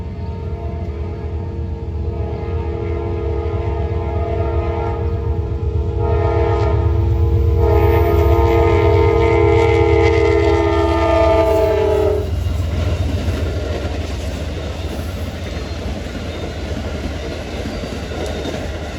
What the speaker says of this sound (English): approaching eastbound at 11:20 is Amtrak's eastbound Pennsylvanian from Pittsburgh to New York